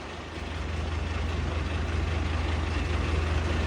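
A truck engine idles steadily at a job site, a low continuous rumble that stays loud and even throughout with no speech over it.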